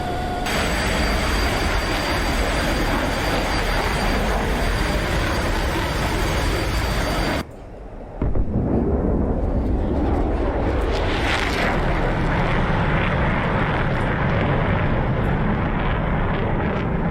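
Roaring MiG-19 Farmer jet engine at full afterburner in a 1960s dogfight video game, a loud, continuous broadband rumble that cuts out briefly midway and then returns just as strong.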